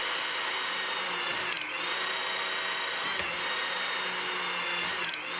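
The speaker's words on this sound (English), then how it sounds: "Using the pump control, advance the wrench so that it rotates the nut." A hydraulic torque wrench pump runs steadily while advancing the wrench to turn a nut on a braced structure, giving a continuous loud motorized whine with a few brief pressure shifts and no voices.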